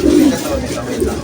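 Racing pigeons in a loft give low, soft coos close by, a brief throaty burble against background chatter.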